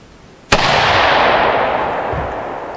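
One loud, close AR-15 rifle shot fired from a bare muzzle with no brake cracks sharply, then a long booming echo rolls out and slowly fades over two seconds.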